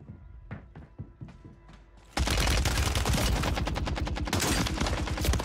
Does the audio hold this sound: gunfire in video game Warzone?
yes